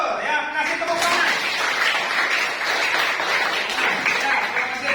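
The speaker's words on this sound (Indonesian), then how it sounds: "Ya, kasih tepuk tangan." Students in a civics class clap for a classmate's correct answer, a steady round of close applause running under voices and light laughter for about five seconds.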